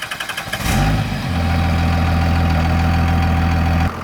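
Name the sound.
1999 24-valve Cummins diesel truck engine idling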